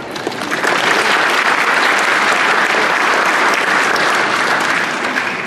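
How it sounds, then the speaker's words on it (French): A church congregation applauds the donors at a parish celebration, broad sustained clapping from many people, loud and even for several seconds before easing slightly at the end. "applaudissons aussi pour tous les donateurs."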